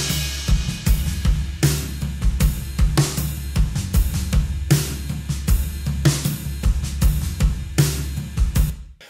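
A full music mix processed through the Channel V plugin, with steady dense bass, kick and cymbal-like hits in a driving rhythm, loud and continuous throughout with no voices.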